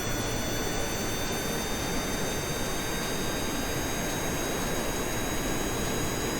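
A plane's jet engine roars at full throttle in Kerbal Space Program, a steady, loud, unbroken drone with a constant whine on top and no talk.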